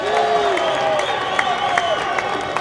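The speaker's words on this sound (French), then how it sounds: "Nous allons applaudir Félix Antoine Tshisekedi Tshilombo, tous comme un seul homme" Outdoor crowd at a political gathering in Bukavu claps and cheers for the Senate president, a broad, steady roar with scattered sharper claps, while a loud voice and tonal chanting run over it.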